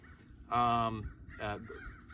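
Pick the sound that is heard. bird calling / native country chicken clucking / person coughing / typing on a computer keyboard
bird calling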